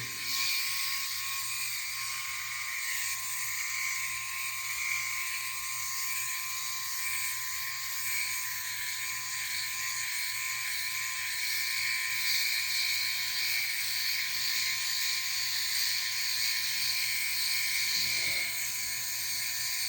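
A Brio Raze electric head shaver runs continuously with a steady high buzzing whine while it is drawn down the back of the neck, close and even throughout, with a brief rustle near the end.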